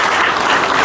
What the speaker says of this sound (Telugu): అందరూ ఒకసారి గట్టిగా చప్పట్లు కొట్టండి.